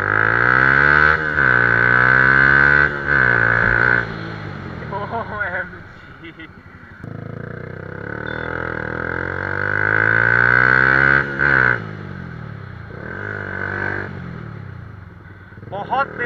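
A Yamaha R15 V2 motorcycle fitted with a Daytona exhaust being ridden, its loud raspy engine revving up and down through several rises and drops, close to the listener and without talking.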